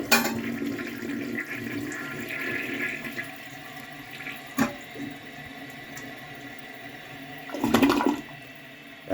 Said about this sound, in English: even on half a tank, it delivers a pretty powerful and nice flush